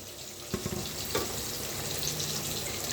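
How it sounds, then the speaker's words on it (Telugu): Chopped cluster beans dropped into hot oil tempering, giving a steady close sizzle and crackle with a couple of sharp bursts as the pieces hit the pan. "ఈ తాలింపులో వేయాలండి"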